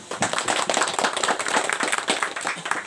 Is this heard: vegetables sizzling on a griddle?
no